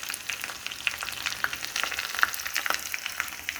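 Mustard seeds pop and crackle in hot oil for tempering, a dense patter of sharp little snaps over a soft sizzle, close up and fairly quiet.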